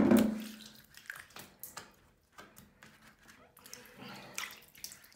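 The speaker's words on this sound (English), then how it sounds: "I'm going to throw water around in the whole shower." Water is thrown and splashed around a slate-tiled shower after cleaning with a lemon shower cleaner, a loud initial burst followed by intermittent splashes and drips, with some speech.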